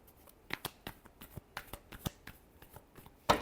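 A deck of tarot cards is shuffled up close, making quiet, rapid riffles and soft slaps in an uneven rhythm, with a sharper snap of cards at the end.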